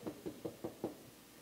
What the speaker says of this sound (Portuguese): Pedro bateu.